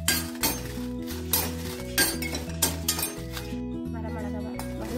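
Kashmiri and dried red chillies are roasted and stirred in a pan, with several sharp metallic scrapes and clinks of a spoon against the pan over a steady background hum.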